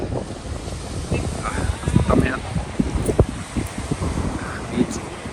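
Ocean surf rolls onto a beach in bursts under heavy wind buffeting the microphone, steady and fairly loud, with people talking now and then.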